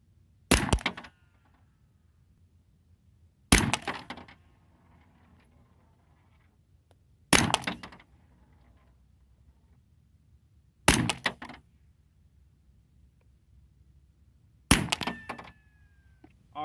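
Five suppressed 9mm pistol shots firing subsonic reloads of 4.3 grains of Power Pistol powder, each a sharp muffled crack with a short ringing tail, spaced evenly about three to four seconds apart in a quiet setting.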